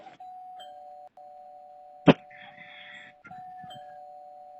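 Doorbell chimes at a big mansion in the Roblox game, with a sharp strike and a ringing tone held for a few seconds over a steady background hum.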